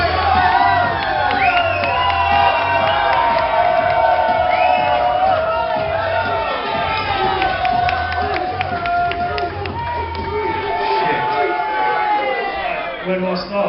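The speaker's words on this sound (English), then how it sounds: "Please raise massive round of applause for Sam Hicks." Crowd cheering, whooping and clapping loudly as a performer is brought on, a dense roar with shouted voices layered over steady applause throughout.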